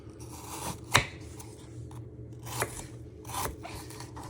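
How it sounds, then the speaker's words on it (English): Apples are cut into small pieces on a board, making a few sharp, crunchy knife strikes spaced irregularly, close and fairly quiet. "Now you just want to chop your apples into little pieces."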